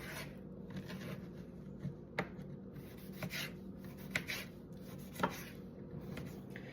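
A knife cuts the ends off San Marzano tomatoes on a cutting board while canning diced tomatoes, with several soft, distinct chops and taps that are quiet and close.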